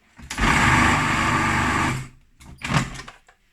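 A food processor blending a vegan okara meatball mixture with molasses, a loud close whirring burst of about two seconds, a short pause, then a second brief pulse.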